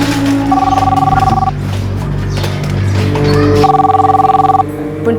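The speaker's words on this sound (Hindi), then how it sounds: "देखो तो किसका फोन है?" A telephone rings in two repeated electronic bursts separated by a pause, loud and close, with a steady background score underneath.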